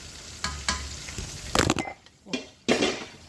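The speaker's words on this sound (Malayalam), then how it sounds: "എല്ലാം ഇതുപോലെ ഫ്രൈ ആക്കി നമുക്ക് കോരിയെടുക്കാം." Chilli chicken pieces fry in hot oil with a crackling sizzle, broken by close scrapes and clinks of a utensil lifting pieces from the pan.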